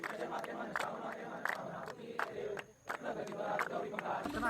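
Village crowd at a Ganesh immersion aarti, many voices chanting and shouting together in a rhythmic pattern of bursts, fairly close, with one brief lull midway.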